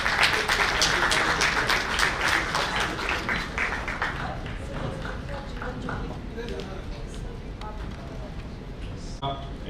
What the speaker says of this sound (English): Can we have a huge round of applause for Mr. Vinay Gupta, Executive Director, Ghaziabad Management Association.